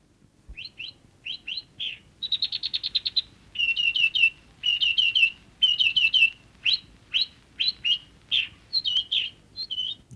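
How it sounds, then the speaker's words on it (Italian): A song thrush sings clear, repeated phrases nearby, short whistled and trilled notes in quick bursts with brief pauses, in a quiet setting. "Zirlo del tordo."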